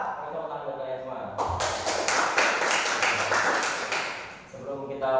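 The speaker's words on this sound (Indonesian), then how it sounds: "Tepuk tangan buat kalian semua." A class of students applauding in a classroom, a burst of dense clapping that swells and fades over a few seconds, with people talking before and after it.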